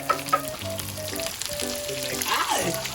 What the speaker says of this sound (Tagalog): after pag-brown yan ay halo natin ating gulay